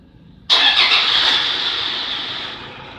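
A Toyota Fortuner's engine, treated with a Pressolind additive, cranks and fires with a sudden loud roar and a brief squeal, then settles gradually toward a steadier running note, close by with no talking.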